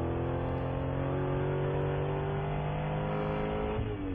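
A Spec Corvette race car engine on track at Chuckwalla Valley Raceway drones loud and continuous from inside the car, its harmonic tones rising and falling slightly as the engine revs under load.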